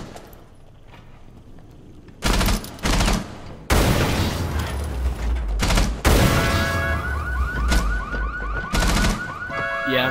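A firefight in Rainbow Six Siege: loud, sharp bursts of rapid gunfire that start suddenly and continue in close, dense volleys, with ringing tonal game effects in the later part.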